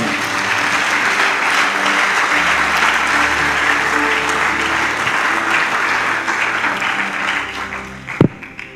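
A church congregation claps continuously and fairly loudly for several seconds at a French-language sermon, the applause tapering slightly near the end with one sharp louder clap.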